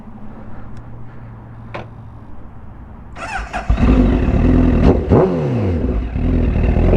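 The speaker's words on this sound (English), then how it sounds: "just hop on the bike, take it for a little spin around this abandoned parking lot" A 1000cc motorcycle idles with a low rumble in an abandoned parking lot, then opens up into loud, close revving with rising and falling pitch sweeps as it rides around, plus a brief clunk near the start.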